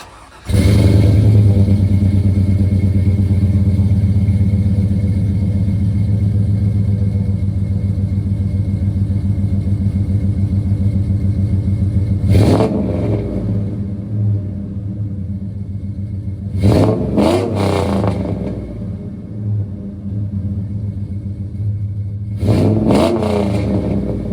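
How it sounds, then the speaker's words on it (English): A GMC Sierra pickup's engine idles in a steady, loud rumble through its muffler exhaust, with three short, sharp revs surging above the drone near the end. "we should definitely tell the difference between the muffler sound and the open cutout"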